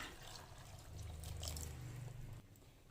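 Plain water poured into a blender jug, holding ground toasted sticky rice, for a Thai Isan dish of bamboo shoots and pork belly; a steady, soft watery rush grows slightly fuller midway, then stops abruptly near the end.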